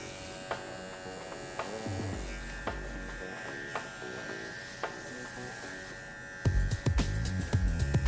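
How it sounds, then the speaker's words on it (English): Electric dog hair clippers buzz steadily while trimming a Cavapoo puppy's coat into a teddy bear cut, with a low hum broken by a few clicks and a louder burst of handling near the end. "The clipper does the cutting by this blade moving back and forth and trimming the hair."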